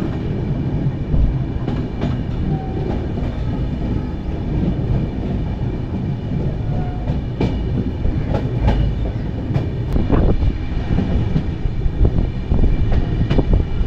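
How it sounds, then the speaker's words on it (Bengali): Ride aboard the 15960 Kamrup Express from Dibrugarh to Guwahati as it runs through Narengi station, a loud continuous onboard rumble with rhythmic wheel clacks over rail joints and some wind buffeting. "তো আমাদের ট্রেন এর মধ্যে পার করছে নারেঙ্গি স্টেশন।"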